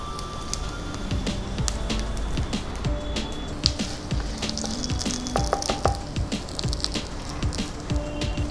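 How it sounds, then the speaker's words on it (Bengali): Dried red chillies, bay leaves and whole cumin seeds sizzle in hot white cooking oil, a continuous crackling fry with dense spitting pops throughout, close and steady with no talking. "এবার আমি 2টো শুকনো লঙ্কা, 2টো তেজপাতা ফোড়ন দিলাম"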